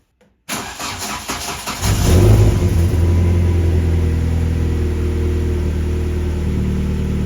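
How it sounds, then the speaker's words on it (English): A C20XE car engine cold-starts after a short silence: the starter cranks briefly, the engine catches with a rising rev, then settles into a steady, fairly loud idle. "This is a cold start engine."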